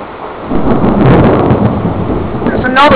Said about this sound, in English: Lightning's just striking.